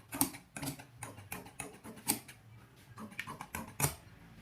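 Scissors cut through pajami fabric along marked lines, a series of quiet crisp snips and clicks at an uneven pace, close and soft with no talk.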